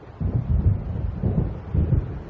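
Thunder from an approaching storm over the sea in the video game Alan Wake: three or four deep, rolling rumbles swell and fade in slow succession, fairly loud with no voices.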